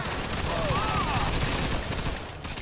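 Dense, continuous gunfire rattles through a Mafia 2 Definitive Edition shootout, a loud steady volley filling the whole moment.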